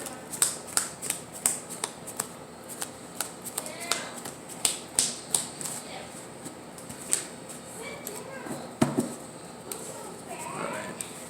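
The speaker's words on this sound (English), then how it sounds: "Oh snap, let's just power shuffle" Someone power shuffles a Yu-Gi-Oh card deck, producing quick bursts of crisp riffling clicks in an uneven rhythm, close up and fairly quiet, with low background sounds between the bursts.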